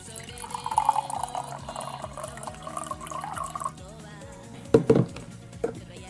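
Pre-boiled hot water poured for mate tea runs as a steady liquid stream at moderate volume, with a faint voice murmuring under it and a couple of louder clinks near the end.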